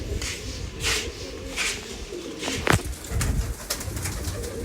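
Pigeons coo softly and repeatedly in a loft, low rolling calls coming in a loose rhythm at moderate distance, with a few brighter bird calls and light background noise.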